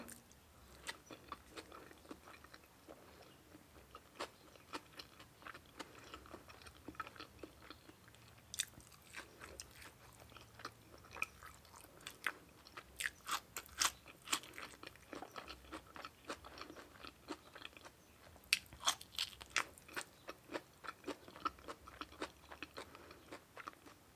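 Close chewing and crunching of fried pork with vegetables and fermented fish chili dip, soft irregular bites and mouth clicks continuing throughout at low level.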